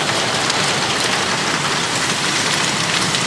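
Heavy tropical rain pours down outdoors, a dense, loud, unbroken hiss of drops on surfaces without any talk.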